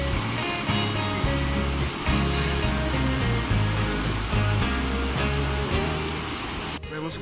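A rushing river in the Cocora Valley, Quindío, roars steadily beneath a wooden plank bridge, a loud, constant broadband wash of water that fills the whole scene without pause, with no one speaking over it.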